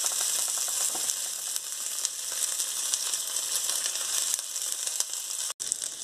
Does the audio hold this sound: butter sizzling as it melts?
yes